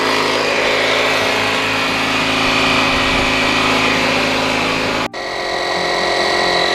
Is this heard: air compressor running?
yes